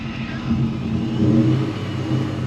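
A supercharged BMW E39 M5 engine revs in neutral, a deep, steady growl that rises and falls slightly with a faint supercharger whir above it, heard close up and continuously without talk.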